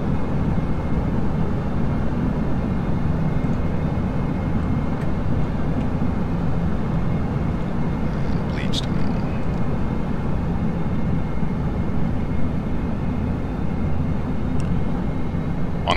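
A Dash 8 turboprop on a reduced-power landing approach to runway 34L at Reno in a flight simulator game, a constant loud low engine and airflow rumble with faint clicks, with no talk.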